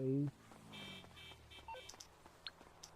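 Short electronic dialing tones and beeps from a phone in the video game GTA Online, brief and moderately faint after a low tone, with someone talking over them.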